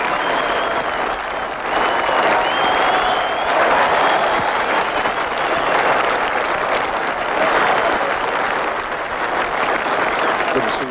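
A cricket crowd at Leeds applauds a batsman's century during a Test match, broad sustained clapping from the stands that swells and holds, with a commentator's voice over it.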